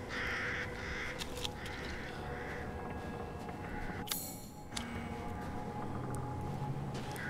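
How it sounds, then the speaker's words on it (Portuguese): Crows caw repeatedly in the video game Resident Evil Village, harsh calls rising above a steady wash of in-game ambience, with one louder burst near the middle. "pior que eu preciso pegar aves e tô deixando esses corvos tudo fugir"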